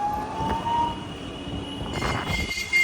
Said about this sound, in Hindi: बहुत ऊंची आवाज़ आ रही है मोटर की